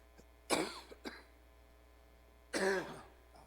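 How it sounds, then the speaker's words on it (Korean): A man at a pulpit during an early-morning church prayer service coughs and clears his throat in two close bursts, a short double hack followed after a pause by a longer rasping cough, in a quiet room. "이 자리에 올라오면 이렇게 자꾸 기침이 납니다."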